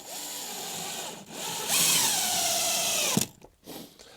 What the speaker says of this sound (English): so I'm just going to secure it with sort of a few 40mm screws